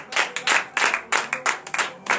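Church congregation at a morning prayer service applauding, a few pairs of hands clapping in bursts of distinct, loud, closely spaced claps with brief gaps between them, no cheering voices evident.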